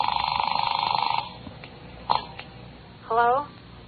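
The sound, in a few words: telephone ringing, radio drama effect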